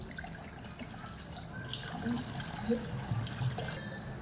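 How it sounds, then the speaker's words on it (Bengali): Water is poured into a vessel for puchka tamarind water, giving a soft, close trickling and splashing with a few small drips, fairly quiet and steady throughout. "আমি পরিমাণ মতন জল নিয়ে নিচ্ছি।"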